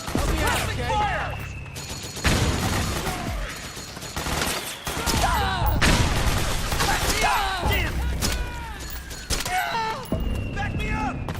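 Repeated gunfire bursts in Metal Gear Solid 4 during a squad assault on a facility, crackling continuously through the scene alongside shouted voices and battle noise.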